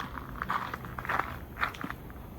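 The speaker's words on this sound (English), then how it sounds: "It's trying to eat through the bag." A bear gnaws and crunches through a bag of dog food, giving irregular crackling bites and scrapes at close range over a low rumbling background, with no talking.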